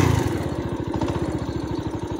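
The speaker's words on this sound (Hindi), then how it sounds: "ये हम है भाई शिवू के साथ और हमने करी है भाई कोल्ड स्टार्ट, क्योंकि कोल्ड स्टार्ट जरूरी है भाई" Motorcycle engine running steadily just after a cold start, a close, even putter with a fast regular pulse and no voices over it.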